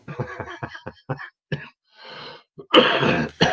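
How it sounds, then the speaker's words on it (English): A single harsh, close cough bursts out near the end, following some brief murmured talk and a breathy pause. "This is the first time all day today I've been coughed"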